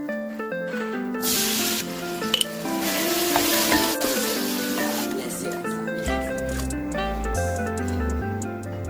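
Tomato, hot pepper and seasonings fry in a pan with a steady sizzling hiss, while music plays underneath throughout.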